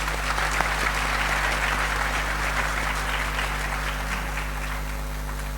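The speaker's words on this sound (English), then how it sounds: "Please, a round of applause." A crowd applauds at a 150th anniversary commemoration ceremony for the Sagranti War, dense steady clapping that holds at an even level throughout.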